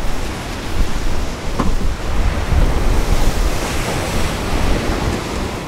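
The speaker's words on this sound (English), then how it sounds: "At this point, the ocean waves really started their brutal attacks." Winter storm on the North Sea heard from a sailing boat: continuous loud roar of crashing waves and gusting wind buffeting the microphone, steady and unbroken throughout, with no voices.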